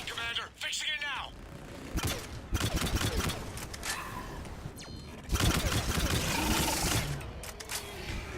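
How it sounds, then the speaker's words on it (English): Sniper rifle gunfire in the video game Mass Effect 3: several sharp, loud cracks spaced a few seconds apart over mechanical clatter, with voices talking in between. "I love this sniper rifle."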